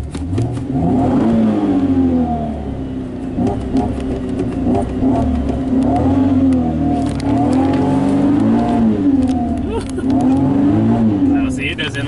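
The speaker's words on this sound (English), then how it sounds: "riding home in the Camaro once again" A Chevrolet Camaro driving on the road, its engine droning loud and near from inside the car, pitch rising and falling as it accelerates and shifts, with people talking over it.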